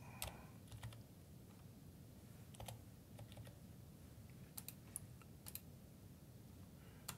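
Faint, sparse keypresses on a computer keyboard, a few scattered clicks and short runs of typing over a quiet background hum.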